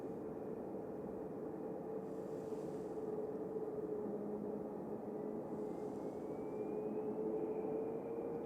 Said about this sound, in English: BA taxiing out here.